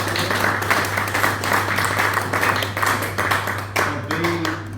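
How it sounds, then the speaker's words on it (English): Steady applause fills a room at a foundation's Christmas party, a dense wash of clapping from a crowd over a constant low electrical hum, thinning slightly toward the end. "Big round of applause for yourselves."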